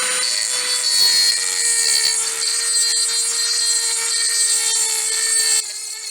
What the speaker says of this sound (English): I just took the step drill and took it up to 5/8